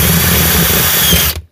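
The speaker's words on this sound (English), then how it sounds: "It's held in by a couple of rivets, which I shall now drill out." A loud power drill whirs steadily up close for about a second, drilling out a rivet in an MK screwless electrical socket, then cuts off sharply into silence.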